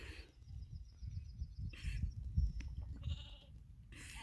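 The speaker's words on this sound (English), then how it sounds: "my sheep are coughing" Sheep bleat faintly at a distance, broken by a couple of short, rough coughs.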